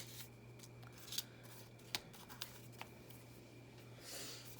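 A few soft, sparse snips of scissors trimming folded paper for a craft journal, faint and close against a steady low hum.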